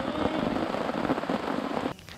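Light drizzle falling during a hike toward a river source, a steady broadband hiss of rain that continues evenly for about two seconds before dropping off abruptly near the end.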